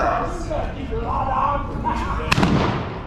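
A single gunshot rings out during a Wild West saloon shootout reenactment in Deadwood. The sharp crack comes about two-thirds of the way through, amid a noisy crowd and talk.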